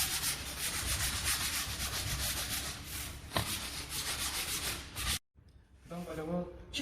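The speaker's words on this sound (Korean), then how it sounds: "120방 사포를 인해서 도장면 전체를 연마해 주세요." Sandpaper of 120 grit rubs steadily across a painted surface in continuous close strokes, a harsh scratching that runs for about five seconds, stops briefly, then resumes more lightly.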